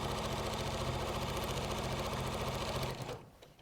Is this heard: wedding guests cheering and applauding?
no